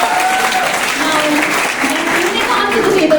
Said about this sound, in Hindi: गाइस तालियों की आवाज नहीं रुकनी चाहिए.